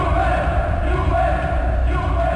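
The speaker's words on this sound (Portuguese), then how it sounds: "Nossa, ele tem grito de torcida." A football crowd chants in the FIFA 12 Mobile video game, a dense, continuous roar of voices with no talk over it.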